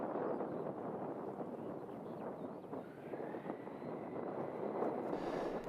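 A Skyleader 400 light aircraft on final approach to runway 05 at Hampstead: a steady propeller-engine drone heard from a distance, with wind noise buffeting the microphone and no talking.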